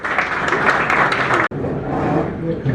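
Audience at a seminar in Pakistan applauds to welcome the host, dense continuous clapping that briefly cuts out and resumes slightly softer.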